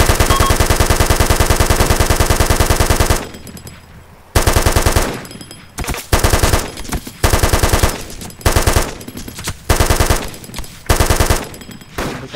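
Automatic weapon fire in the video game Arma 2, loud rapid machine-gun bursts, first one long sustained stream then a series of short clipped bursts separated by brief pauses.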